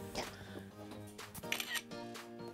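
A camera shutter clicks while taking a selfie, short mechanical snaps mixed with faint rustling, and there is quiet background talk throughout.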